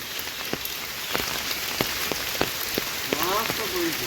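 Steady rain patters on surfaces across a village fishing spot on a rainy day in Bangladesh, a dense even hiss with scattered drop ticks and a brief chirping call near the end.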